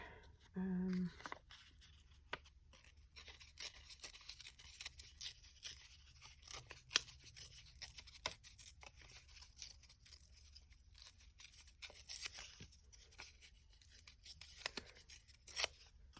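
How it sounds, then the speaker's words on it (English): Paper torn by hand into a rough apron shape for a simple art doll, heard as faint, scattered ripping and crinkling bursts in a quiet room with soft handling noise between them. "I'll have to tear it smaller"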